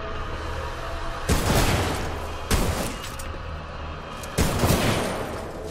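Titanfall 2 gunfire: three sharp, loud bursts of shots ring out about a second or two apart over a steady low rumble of battle ambience, with no one talking.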